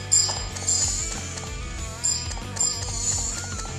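Character footsteps in the Shironeko Project mobile game land as a few sharp, fairly loud thumps at an uneven pace over busy background game music.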